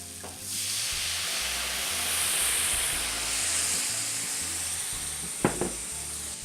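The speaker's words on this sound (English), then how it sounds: "Then we're going to deglaze the pan with our Prophecy Pinot Noir wine." Apples sautéing in a hot pan as Pinot Noir wine is poured in to deglaze, giving a loud, steady sizzle and hiss up close, with two brief clanks of a utensil near the end.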